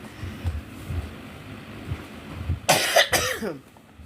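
A burst of two or three harsh coughs near the end, close and loud, after a stretch of quiet low background rumble.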